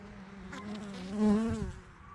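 Honeybees buzz close by around their hives in a brief, wavering drone that swells and fades as they fly past.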